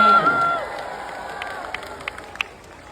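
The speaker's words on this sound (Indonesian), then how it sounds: "Tepuk tangan buat simpul relawan." A crowd at an Anies Baswedan rally in Batam claps and cheers for volunteer groups, a loud burst at the start that fades over a few seconds, with a voice rising over the noise.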